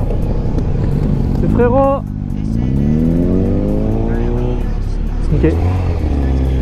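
A 2021 Kawasaki Z900 with a quickshifter accelerates hard, engine pitch rising and then snapping down at each gear change, loud and close, as someone speaks briefly over it.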